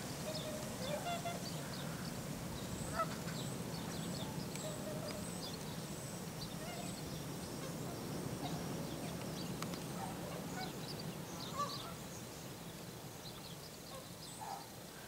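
Many tundra swans call over a steady outdoor background by Prentice Creek, soft whooping and honking cries scattered throughout, some distant and some closer, with no talk.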